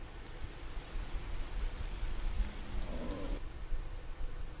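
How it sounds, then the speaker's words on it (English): Rain falls in The Bard's Tale on PlayStation 2, a steady hiss of fine drops that continues alone for several seconds before part of the high wash abruptly drops away near the end. "I just heard some rain."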